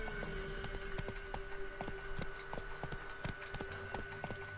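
A horse in The Witcher 3 video game gallops after being urged on, its hooves beating a quick, even clip-clop rhythm throughout, close and clear above a steady low hum.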